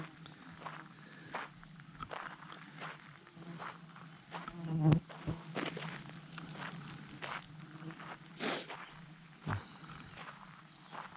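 Deer flies buzzing close around in an outdoor wooded setting, intermittent whining drones weaving near and far alongside scattered footsteps and rustling.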